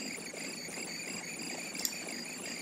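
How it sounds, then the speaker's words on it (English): Grasshopper chirping in Everlasting Summer, unusually loud and harshly distorted as if through a guitar amplifier, a steady buzzing stridulation that continues without pause under a faint background bed. "The chirping of grasshoppers, although not the usual, a much louder, distorted version, as if it had been passed through a guitar amplifier"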